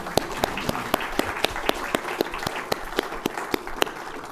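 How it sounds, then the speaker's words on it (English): An audience at a space medicine summit applauds the panel members, steady clapping with several sharp, distinct claps standing out close by over the wash of the crowd. "Please give one more round of applause for our panel members."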